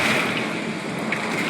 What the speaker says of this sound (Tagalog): Lakas ang ulan at hangin, ganyan.